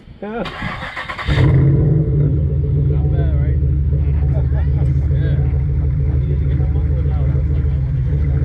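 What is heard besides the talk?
car engine revving through straight-piped exhaust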